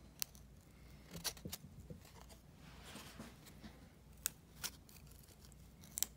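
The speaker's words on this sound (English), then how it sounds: "I can come in and I can cut a little bit more of that angle that I'm looking for" Scissors snipping a piece to an angle while working on a door, a few sharp isolated snips spread apart over faint background noise, close and quiet, with no talk.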